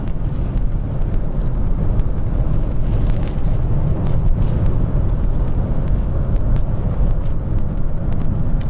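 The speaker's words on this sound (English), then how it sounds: "We bump up the cruise a little bit to get a little faster here to pass this car." Interior of a moving car on the highway with cruise control bumped up to pass another car: a steady, loud rumble of engine and road noise with wind hiss and no talking.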